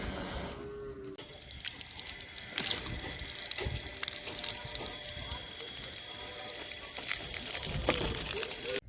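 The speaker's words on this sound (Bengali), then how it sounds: "ড্রেনে পাম্প খাটাচ্ছে" A pump draws water out of a drain at a pond-side bathing-step construction site in the Sundarbans, giving a steady, broad wash of rushing water and machine noise that runs nearly unbroken, with a few sharp knocks scattered through it.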